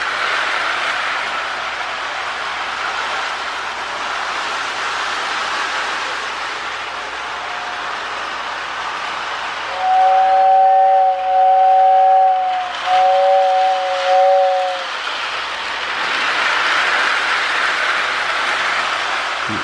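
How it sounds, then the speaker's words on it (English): A prewar-style toy train hums and rattles steadily along its track, then a Lionel two-tone whistle in a Marx tender sounds in several short blasts before the running noise resumes. "That Lionel whistle sounds pretty good in that Marx tender."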